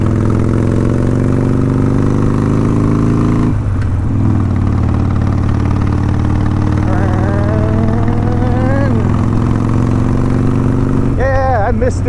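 Motorcycle engine running steadily through a ride, a loud continuous drone with harmonic bands that swell briefly as the rpm rises, with a rider talking over it throughout.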